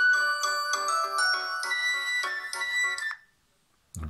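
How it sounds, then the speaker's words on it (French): A Lenovo K5 Play smartphone plays its ringtone, a bright, repeating chime melody heard loud and close for about three seconds before it stops. A short knock follows after the ringtone stops. "a quand même une sonnerie qui est plutôt pas mal"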